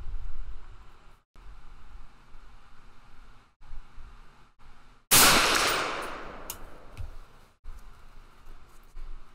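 An SKS rifle fires a single 7.62x39 handload with a 150 grain Hornady InterLock bullet outdoors. The one sharp, loud report cracks partway through and its echo decays over a second or two against faint background hiss.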